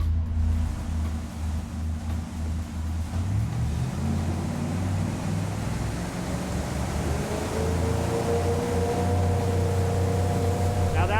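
Motorboat fitted with Bennett trim tabs accelerating out of the hole, a loud low engine and hull rumble with water rush that builds as the engine note climbs steadily.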